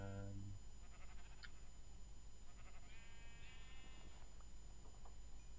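Several short sheep bleats from the modded Minecraft game Feed The Beast, each with a wavering, nasal tone, heard over a steady background hum at moderate loudness.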